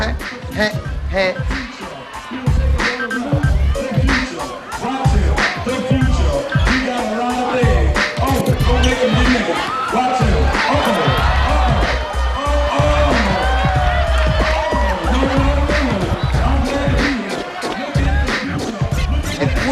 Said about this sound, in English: The crowd just went buck wild.